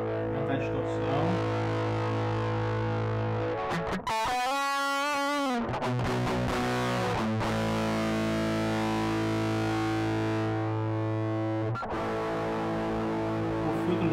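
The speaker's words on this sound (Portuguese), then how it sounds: "Aumentar a distorção." An electric guitar played through a ProCo RAT distortion pedal with the distortion turned up gives thick, sustained, heavily saturated chords, loud and close, broken by a brief bending, warbling passage midway.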